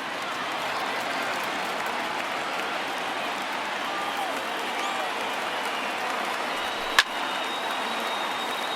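Stadium crowd of around 22,000 in MLB The Show 19 rising to cheer, a broad sustained roar at steady level with one sharp knock near the end.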